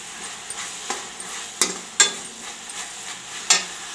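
Spatula scraping and stirring a sesame barfi mixture in a pan, with a series of sharp, irregular scrapes and taps over a soft, steady sizzle, close and fairly clear.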